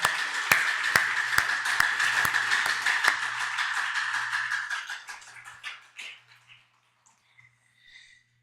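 A church congregation claps at a Korean New Year's Eve service: sharp, loud rhythmic beats that blur into sustained applause, then fade over a few seconds into near silence with a faint voice at the end.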